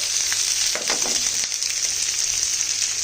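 Chilli chicken pieces sizzle and crackle in hot oil in a pan, close and continuous, with a few scraping bursts as they are tossed and turned.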